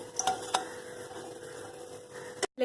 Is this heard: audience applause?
no